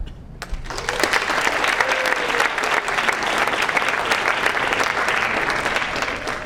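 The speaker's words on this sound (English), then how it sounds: "if I could please have a warm round of applause for those candidates" Warm applause from an audience at a student government association meeting, steady clapping that starts abruptly and holds at an even level, filling the room throughout.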